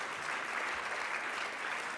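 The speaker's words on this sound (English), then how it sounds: "So I think it's time for like huge applause for this wonderful panel." Steady applause from a conference audience for a panel on ICSI for non-male-factor infertility, an even, continuous patter of many hands, moderately distant and unbroken by speech.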